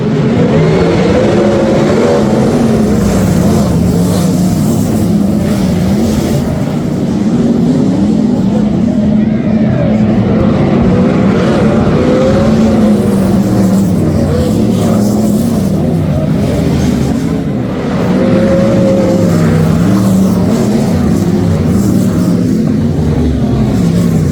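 Sprint cars race at ACT Speedway in Canberra, a loud, constant engine roar with rising and falling pitch as cars circulate the track, persisting throughout with a voice talking over it.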